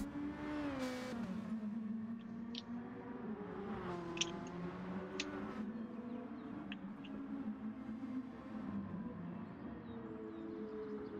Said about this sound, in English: Should have some car noises too now.